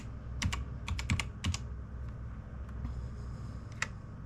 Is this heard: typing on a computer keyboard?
yes